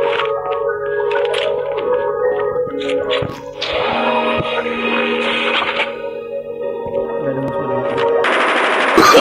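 Gunfire in Call of Duty Warzone Mobile, with repeated shots and bursts sounding close and loud over a constant game soundscape, and a voice speaking at times during the exchange.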